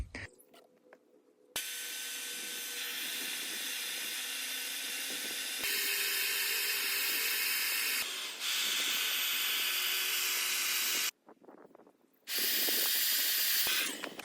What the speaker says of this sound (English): for now we're going to use a little blower to get it going